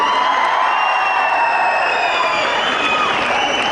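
A hall full of students claps loudly at a college annual day celebration, dense sustained applause with scattered cheers and whoops, close and continuous throughout.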